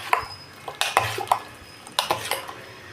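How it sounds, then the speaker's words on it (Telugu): A metal ladle clatters against a cooking pot while buttermilk rasam with curd, green chilli and garlic is stirred. The scrapes and clinks come in irregular bursts, close and moderately quiet, with no voices. "బాగా గరిటెతో తిప్పవాలి."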